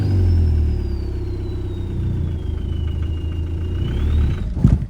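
Car with a swapped TDI diesel engine revving as it pulls away with no boost, a loud close drone that rises and settles, with a rattling clunk at the end.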